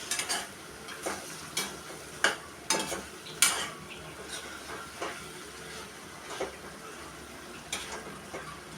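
Vegetables fry in oil in a pan, a soft constant sizzle under repeated sharp scrapes and taps of a spoon stirring, close and fairly quiet, with no talking.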